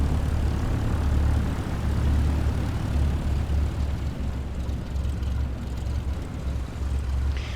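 A light aircraft's piston engine drones steadily and loudly in a flight simulator during bush flying in Botswana, with a constant propeller hum and no voices.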